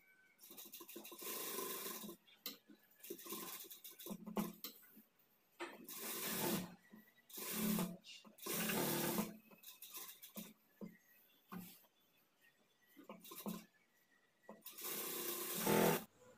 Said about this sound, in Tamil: அடுத்தது நெக்கில் அரை இன்ச் அளவுக்கு விட்டு ஒரு தையல் போட்டுக்கலாம்.